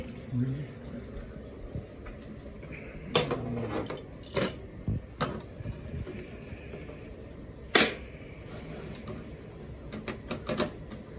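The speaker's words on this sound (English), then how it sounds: "Now you got tongs picking them up." Scattered clinks and knocks of glass canning jars being gripped with tongs and set down while canning tomato juice, several sharp taps close by, with faint talking underneath.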